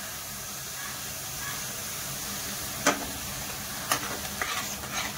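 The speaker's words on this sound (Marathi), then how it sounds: "टोमॅटो ही व्यवस्थित परतून घेते." Tomato puree sautés in hot oil with a steady soft sizzle and hiss. A few sharp spoon-against-pan clinks cut in while it is stirred, and no one speaks.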